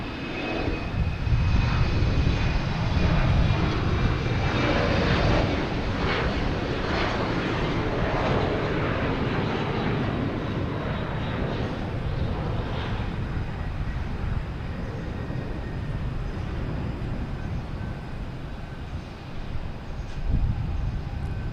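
A JetBlue jet airliner at Boston's Logan Airport, a broad roaring engine rumble that is loudest at the start and slowly eases off, heard from a distance with no talking.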